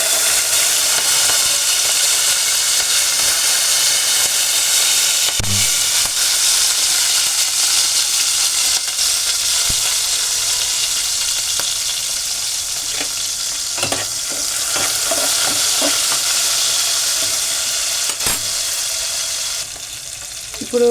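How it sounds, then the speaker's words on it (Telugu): Green chillies and curry leaves frying in hot oil for a prawn curry, a loud continuous crackling sizzle held close for the whole stretch, with a few brief clicks of a spoon and no talking. "నూనె కాగింది ఫ్రెండ్స్. ఇప్పుడు పచ్చిమిరపకాయలు, కరివేపాకు వేస్తాము."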